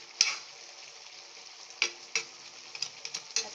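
Pinakbet vegetables cook in a pan with a continuous soft sizzle, broken by several sharp clinks and scrapes as they are stirred.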